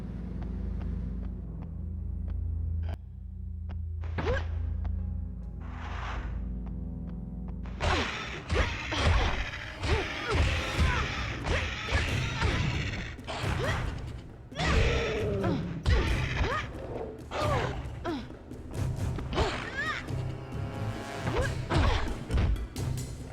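Gargoyles get smashed in the video game Buffy the Vampire Slayer: Chaos Bleeds: a quiet rumbling opening gives way to a dense run of heavy thuds, cracks and crashes that keep coming.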